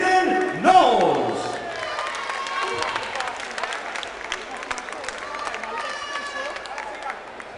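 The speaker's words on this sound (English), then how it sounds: "ladies and gentlemen, a big round of applause to your runner-up, Lyndon Knowles" An audience at a Muay Thai event applauds the runner-up, a swell of clapping and crowd noise that peaks early and then carries on steadily beneath a loud announcer's voice and some whistles.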